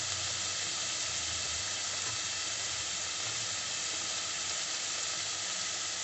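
Red chili sizzling in hot oil, a steady hissing crackle heard close and fairly quiet, unbroken for the whole stretch with no talking.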